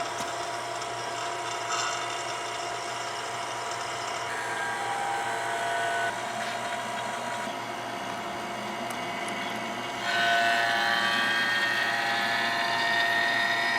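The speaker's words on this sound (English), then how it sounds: "Now I need to vacuum out the system." A steady mechanical drone from a vacuum pump evacuating a car's air conditioning system runs continuously, its tone shifting slightly partway through, with no voices.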